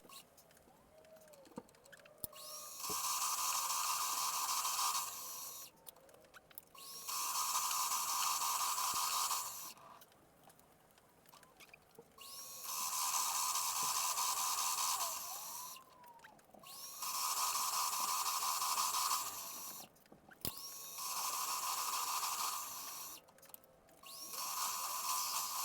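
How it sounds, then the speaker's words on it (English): Drilling and tapping a hole in a lens support for a 75-300mm Canon lens: four long loud bursts of high-pitched machine whine, each several seconds, separated by quieter pauses with light clicks and handling. "Okay, so that's now drilled and tapped"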